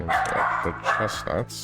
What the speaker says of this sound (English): Sorry, that is our dog.